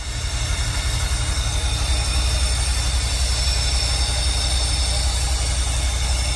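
A vehicle engine sits at idle with no throttle response, giving a steady low rumble that holds an even level throughout without revving.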